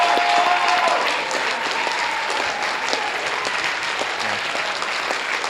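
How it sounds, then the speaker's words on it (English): Round of applause from a school show audience for the evening's MC, a full steady clapping that starts loud with a brief cheer and settles into an even, slightly softer patter. "can we get a round of applause for our MC"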